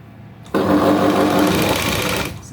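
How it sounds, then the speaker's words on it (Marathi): A sewing machine runs in one loud, steady burst of fast stitching on a V-neck blouse, starting abruptly and stopping after about two seconds. "व्यवस्थित फिनिशिंग करून आपल्या शिलाई मारायची असं"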